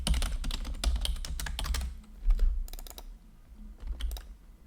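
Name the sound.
typing on a new computer keyboard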